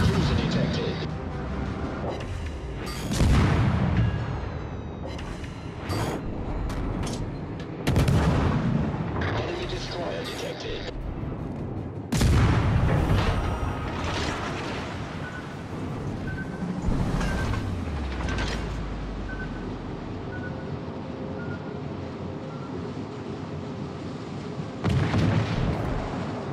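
Warship artillery in the naval combat game World of Warships: Legends fires in loud, booming salvos at irregular intervals, with rumbling blasts layered over continuous battle noise.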